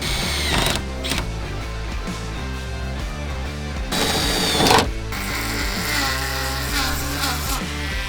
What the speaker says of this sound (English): So we're still cutting up the trunk.